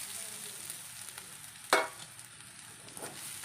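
A spatula stirs onion, crushed chili and grated coconut thoran in a frying pan over a steady sizzle, with one sharp scrape of the utensil against the pan partway through.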